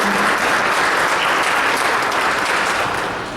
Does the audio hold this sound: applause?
yes